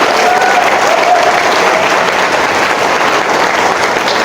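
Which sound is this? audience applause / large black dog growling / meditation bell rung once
audience applause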